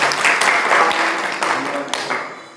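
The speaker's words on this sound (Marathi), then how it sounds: "आपण टाळ्या वाजवून स्वागत करूया" Brief burst of audience applause greeting a speaker, a dense crowd of claps swelling and then fading out within a few seconds.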